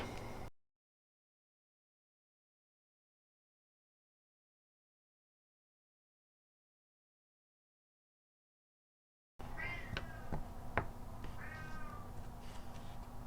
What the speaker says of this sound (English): I don't know if you can hear, but that's my kitty.